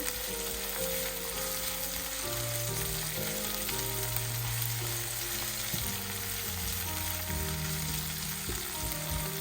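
Onions fry in a pan for mutton sukka, a steady close sizzle running throughout, with a low tonal hum underneath and no voices.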